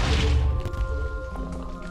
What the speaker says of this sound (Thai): ระเบิดแล้วกลายเป็นชีสครับ